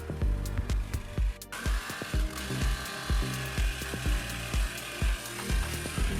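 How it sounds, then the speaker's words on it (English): Jigsaw cutting through the metal body of a 2020 Ford Transit van for a driver side window, a close buzzing motor under rapid rhythmic thumping blade strokes, steady and continuous with no talking. "With a good jigsaw blade, it should cut right through the metal, no problem."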